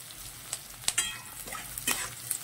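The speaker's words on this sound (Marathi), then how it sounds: "भाजी करताना शक्यतो फास्ट गॅस करायचा आहे, मस्त कांदा तळला जातो" Chopped onion fries in a pan over a high gas flame for a fenugreek vegetable dish, a soft continuous sizzle with a few sharper crackles and stirring scrapes, close and fairly quiet.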